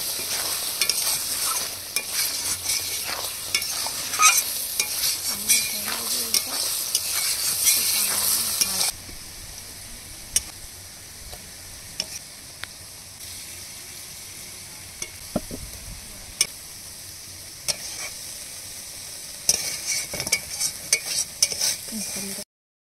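Stirring and mixing a vegetarian dish of okra cooked with sour yogurt in a pan, close and steady, with a brighter sizzling stretch at first that settles into quieter scraping and occasional clinks, with no talking.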